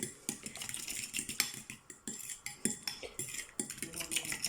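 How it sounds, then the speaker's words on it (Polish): Cutlery clinks and scrapes against a bowl as ingredients are mixed for breaded pork cutlets, a close, uneven rhythm of quick taps and stirring strokes with brief pauses, no voices. "I sobie to wszystko mieszam"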